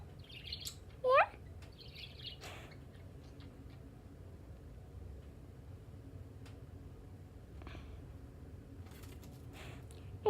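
A pet bird gives a couple of short, bright chirps, one clear call near the start and another right at the end, over quiet room background with faint ticking.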